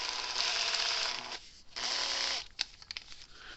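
A 5/16 inch drill bit bores into a Gallagher M800 fence charger housing, two loud sustained whirring bursts of drilling separated by a short pause, then scattered clicks and scraping as the drill stops.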